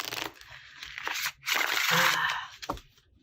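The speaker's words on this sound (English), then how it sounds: "That's the kind of shuffle that I want." A black-core tarot card deck being shuffled by hand: quick papery riffles and crisp card slaps in short bursts, close up and fairly loud, with brief pauses between passes.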